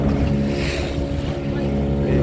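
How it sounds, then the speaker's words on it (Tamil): Speedboat on Pykara Lake, engine droning loud and steady up close while the hull rocks over waves, with rushing wind noise across the microphone throughout. "ஏன்னா இந்த ஸ்பீட் போட் போகிறதுனால இந்த அலை மாரி கிரியேட் ஆகிடுது."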